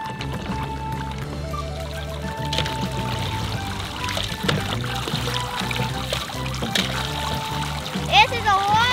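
Water pours and splashes on a Step2 Rain Showers Splash Pond plastic water table, with trickling and splatter mixed under children's chatter and background music.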